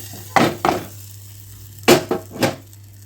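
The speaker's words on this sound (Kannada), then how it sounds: "ಈ ಒಗ್ಗರಣೆನ ಈಗ ಇದಕ್ಕೆ ಬರಬೇಕು." A hot tempering poured into baby onion sambar hisses in several short sizzling bursts with metallic ladle clinks, close and fairly loud, with no one talking.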